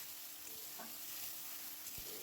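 Spices tipped into browned onions in a hot pan give a steady, even sizzle of frying with a few soft stirring knocks, close and continuous throughout.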